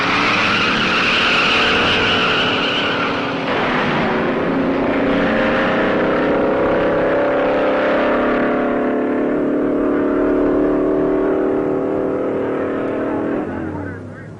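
Dragster race cars launch with loud, sustained tire screeching and roaring engines. Engine pitch climbs in long harmonic sweeps before it fades away.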